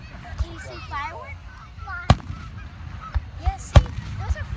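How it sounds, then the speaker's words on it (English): Distant fireworks at a show finale thump in sharp booms under talk and goose-like honking. "Those are fireworks."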